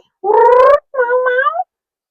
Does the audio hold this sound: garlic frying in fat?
no